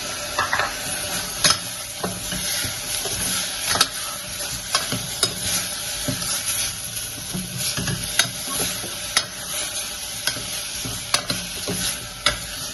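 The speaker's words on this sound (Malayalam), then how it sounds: "തക്കാളി ചെറുതായി മുറിച്ച് വെച്ചിട്ടുണ്ട് രണ്ട് തക്കാളിയുണ്ട് അത് അതും ഒന്ന് വഴറ്റണം" Chopped tomatoes are sautéed in a pan for a peas curry, with a loud, continuous close sizzle and repeated clinks and scrapes of a stirring spoon at an uneven rhythm throughout.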